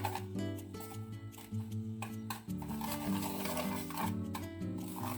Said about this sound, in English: I don't have a whisk though, so I'm using chopsticks.